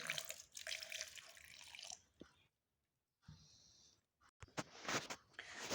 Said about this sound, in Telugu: మెల్లమెల్లగా కొంచెం వాటర్ పోస్తూ పేస్ట్ చేసుకోవాలండి